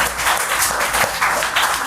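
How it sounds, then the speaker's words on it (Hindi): A studio audience claps for a government school student on a quiz show, a brief, dense burst of applause that stays loud and even throughout. "बार फिर से ताली होनी चाहिए।"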